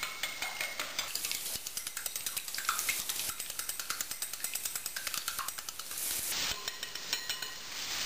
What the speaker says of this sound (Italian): Quindi intanto giriamo le uova.